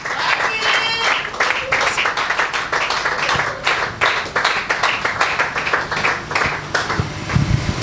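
A church congregation applauds and cheers to welcome a pastor called up to preach, dense continuous clapping filling the hall with voices mixed in throughout.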